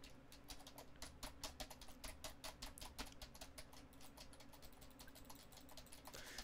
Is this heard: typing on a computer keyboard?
yes